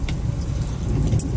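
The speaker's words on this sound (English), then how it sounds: "Why when I start the car, the fireplace always comes on?" Kia e-Niro electric car starting up, a steady low hum and cabin rumble with a faint jingle of keys near the start, no engine roar.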